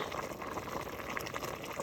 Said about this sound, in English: So I got my greens boiling